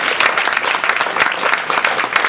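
Applause for contestants at a Toastmasters division contest, dense clapping from a full audience, loud and steady throughout, with no talk.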